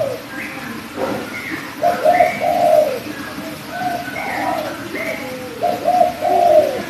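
Repeated soft cooing of a pigeon or dove, close and steady, with a few brief chirps, over a low background hum.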